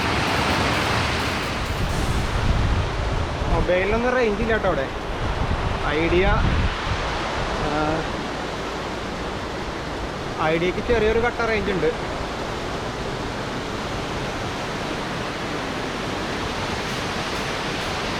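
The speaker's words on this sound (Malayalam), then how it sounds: "ഇങ്ങനെ അണ കെട്ടി തടഞ്ഞിട്ട് അവിടെ നിന്നാണ് ഈ വെള്ളം ചാടുന്നത്." Steady broadband rush of water spilling over a small dam on a forest stream, continuous and fairly close, running under intermittent talking throughout.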